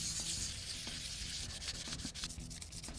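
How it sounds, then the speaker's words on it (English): Fine 400-grit wet-or-dry sandpaper rubs along the edge of a cast epoxy piece, making soft, close, uneven scratchy strokes with no talk. "This is like 400 grit wet or dry sandpaper."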